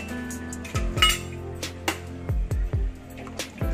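A spoon stirs cloves and rock sugar in a pot of savory broth for Singapore-style shrimp noodles, giving a string of sharp metallic clinks and scrapes against the pot at an uneven rhythm, close and fairly loud.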